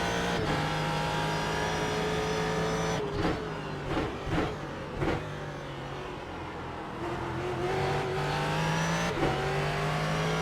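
A Ford GT race car engine in iRacing drones steadily, then blips through several quick downshifts around the middle before pulling again, with sustained engine tone throughout and no talk.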